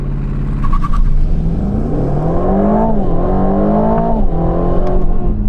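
A 2024 Aston Martin V12 Vantage, 700bhp, launches at full throttle, its V12 roaring loud and close as the pitch climbs through quick gear changes without pause.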